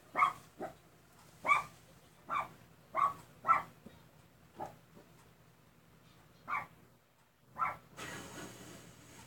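Barking from a dog outdoors comes in spaced single and double woofs, irregular with gaps, moderately loud at some distance, ending with a brief noisy rustle.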